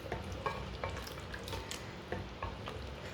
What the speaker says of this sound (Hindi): आप इसे अच्छी तरह भूनना चाहते हैं तो भून सकते हैं।